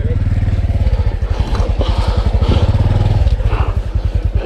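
Honda CT125 motorcycle climbing a hill off-road, its single-cylinder engine thumping in a loud, steady, fast pulse close by, with brief rises in revs and faint clatter.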